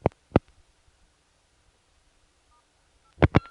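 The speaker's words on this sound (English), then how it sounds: "Now I'm going to pull in a call which is ringing in our pickup group at present." Touch-tone keys on a 1980s Centrex telephone line sound in short beeps, two quick tones, a quiet pause, then two more tones, clear and close.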